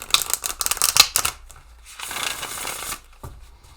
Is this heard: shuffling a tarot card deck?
yes